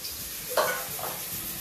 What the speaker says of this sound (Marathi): फक्त यामध्ये भिजवून लगेच तेल गरम केलंय सोडायचं आहे.